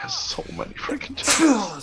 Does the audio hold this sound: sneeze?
yes